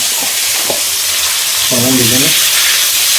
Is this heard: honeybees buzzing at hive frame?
no